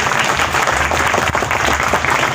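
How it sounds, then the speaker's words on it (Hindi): Audience applause welcoming an older brother onto the stage at a public gathering: dense, steady clapping from a crowd, close and loud, sustained throughout without a break. "एक बार ताली के साथ इनका स्वागत कर दीजिए"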